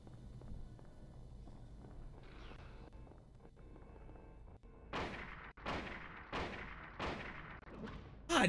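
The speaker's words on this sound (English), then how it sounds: "The perfect time to try out that new hunting rifle." Hunting rifle gunfire in the Silent Hill video game: after a quiet stretch with faint rumbling, four loud, sharp shots ring out at a steady pace roughly a second apart.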